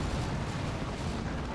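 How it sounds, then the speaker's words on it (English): In the Dawn of War 2 video game, a Chaos Terminator's autocannon fires on the move during a 3v3 match, a dense, unbroken roar of rapid heavy shots and booms, loud and close throughout. "Chaos Terminators forcing melee with their power fist, also firing that auto cannon"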